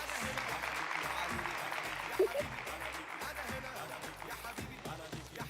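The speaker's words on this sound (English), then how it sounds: "give him a round of applause" Applause from an audience at a children's storytime event, a steady, fairly quiet patter of many hands lasting the whole stretch with a brief louder burst in the middle, a voice faintly mixed in.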